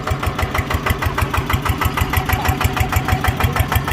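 A single-cylinder engine in a heavy Thai utility vehicle runs loud and close, its rapid even chug of about six firing beats per second thumping steadily with no voices.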